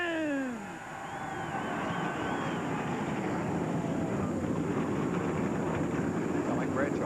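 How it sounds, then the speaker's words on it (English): Loud, steady roar of NASCAR stock car engines firing up together at Rockingham before the RBCTerm.com 200, filling the whole clip with dense broadband noise after a brief voice at the start. "Gentlemen, start your engine!"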